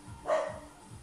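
A dog barks once, a short sharp bark heard in a home during an upper-body workout, fairly faint against the quiet room and over in about a second.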